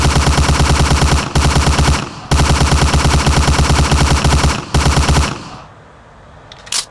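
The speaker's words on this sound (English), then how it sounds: "lay down suppressor fire. Suppressing fire!" Sustained automatic gunfire in the video game Hidden & Dangerous, loud rapid bursts with brief pauses between them, ending with a trailing echo and one last short shot.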